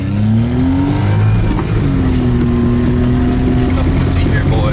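A small Japanese mini truck engine roars loudly and continuously close by in snow, its pitch holding steady then dipping and climbing again, with voices faintly underneath.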